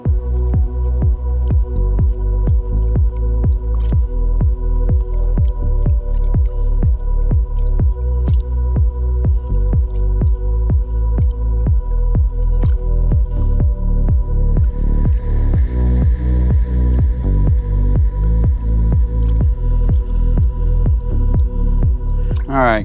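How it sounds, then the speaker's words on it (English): Pay dirt holding copper, silver and gold is panned in water, a steady rhythmic swish and slosh repeating evenly for a long stretch over a low hum. "we'll start panning it. Let's pan."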